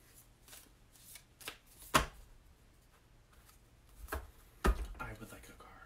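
Tarot cards are shuffled in several quick riffling bursts, with sharp snaps and soft flutters spaced irregularly, close and fairly quiet.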